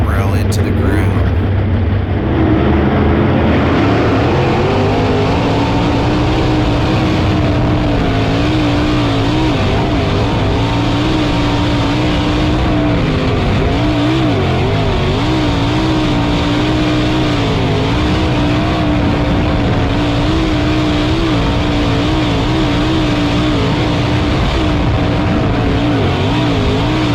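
The IRONMAN 55 race car's engine roars loud and continuous as it is eased into a corner, the pitch wavering with throttle changes throughout, up close and sustained for the whole stretch.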